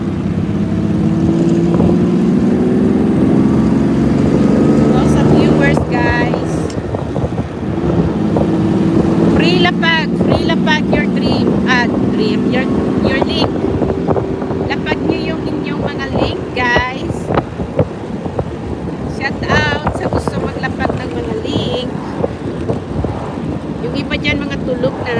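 A 1956 AC Ace on a spring drive, with steady engine drone and wind rumble heard from inside the moving open car and a constant, loud roar; a voice talks over it.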